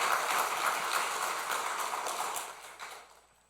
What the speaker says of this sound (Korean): 하나님께 영광의 박수를 올려드리겠습니다